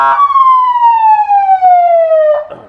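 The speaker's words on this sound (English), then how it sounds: "I've got the siren here." A loud, close siren on a hazardous material emergency response vehicle sounds a single long downward-sweeping wail that winds down and stops with a brief clatter at the end.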